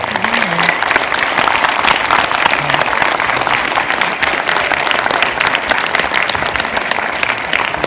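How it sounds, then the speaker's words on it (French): An audience at a film premiere applauds the director, loud dense clapping that holds steady throughout with no speech over it. "S'il vous plaît, applaudissez-le bien fort."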